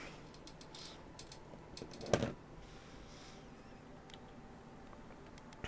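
Soft, faint clicking of a computer keyboard during a session of the game Avowed, irregular keystrokes tapping away with one slightly louder clack partway through, over a low steady background hum.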